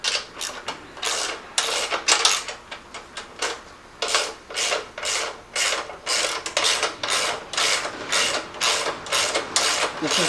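A ratchet wrench turns a bolt on a California Trimmer reel mower during assembly, a close run of rapid rhythmic ratcheting clicks in repeated bursts with brief pauses, with no talking.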